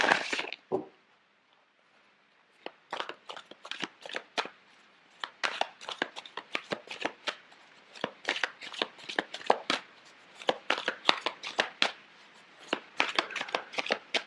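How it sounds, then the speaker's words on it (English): A deck of tarot cards being shuffled by hand, with repeated crisp riffling and slapping bursts that come in quick irregular clusters after a short quiet pause, close and fairly soft, with no talk. "I'm going to shuffle the cards out for you"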